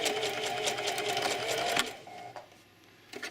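A sewing machine stitches a small drawstring bag, running in a steady, close buzzing burst for under two seconds before stopping into near quiet.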